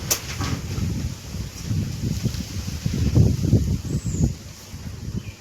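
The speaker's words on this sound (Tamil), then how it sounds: "காற்று அடிக்க பார்த்தீங்களா மக்களே" Outdoor wind gusts buffet the microphone beside a freshly lit fire, a rumbling, uneven roar that swells and eases in repeated bursts, loud and close, with no voices.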